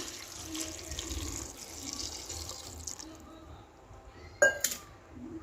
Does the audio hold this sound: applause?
no